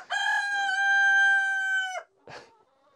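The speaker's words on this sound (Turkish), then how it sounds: "Bir yandan horozlar da ötüyor." A rooster crows loudly in one long, drawn-out call in the village of Çengilli, Kağızman, Kars, followed by a short, softer squawk after a pause.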